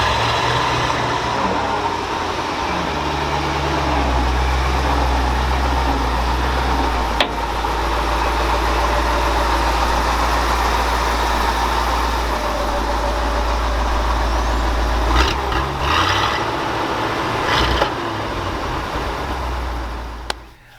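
A 1965 Ford F600 truck engine runs steadily at a low, throbbing idle, loud and close throughout, with a few brief clunks and rattles near the end and no talking.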